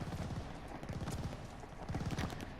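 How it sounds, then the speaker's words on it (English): Automatic shotguns in Call of Duty: Vanguard fire in fast, steady bursts of repeated thumping blasts, moderately quiet and continuous throughout. "all you hear is the automatic shotguns"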